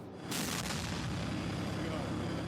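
A single heavy tank gun blast booms loudly, followed by a long rumbling roar that lingers and slowly fades.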